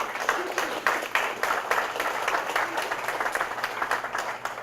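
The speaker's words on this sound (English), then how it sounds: "Can we give them a round of applause real quick?" A crowd at a community summer program claps for the summer workers, a lively round with distinct individual claps over a steady wash of applause, fairly close and sustained.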